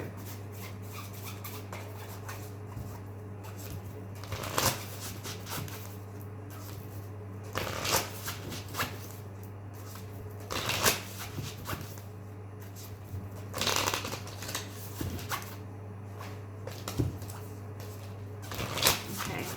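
Repeated bursts of tarot card shuffling, close and crisp, recurring every few seconds over a steady low hum with little else heard.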